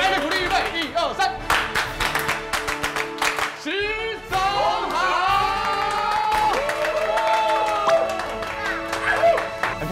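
Clapping and cheering from a small group of coworkers during a surprise reveal at a new studio, bursts of applause mixed with excited voices and laughter, with people talking throughout.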